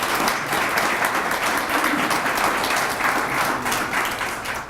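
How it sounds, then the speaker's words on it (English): An audience applauds donors at a community fundraising kickoff event, a steady dense wash of many hands clapping that stays loud throughout without talk. "Please join me in a round of applause for these donors"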